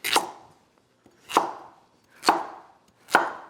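Four sharp knife chops on a cutting board while Roma plum tomatoes and carrots are cut up for a sauce. They come at an even pace about a second apart, each one close and crisp with a short decay, and no one speaks.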